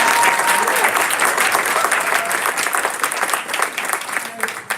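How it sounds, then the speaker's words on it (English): Sustained applause from an audience at a school board of education meeting, loud and dense clapping throughout, easing slightly toward the end. "Let's give him a round of applause."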